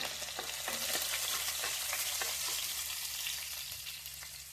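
Chili, curry leaves and garlic frying in hot oil, a steady close sizzle and crackle with small pops and occasional stirring scrapes throughout, no talking.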